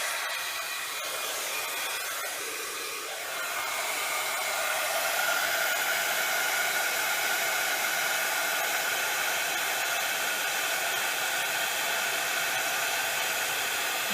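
An embossing heat tool blows hot air steadily to melt embossing powder on a handmade Mother's Day card, a continuous loud whooshing hiss close by that holds for the whole stretch.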